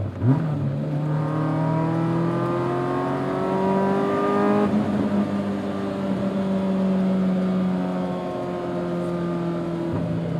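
A 1988 BMW M3 E30 four-cylinder engine climbs steadily toward its 7,000 RPM redline, the rising tone loud and close, then drops briefly and climbs again in a sustained rev.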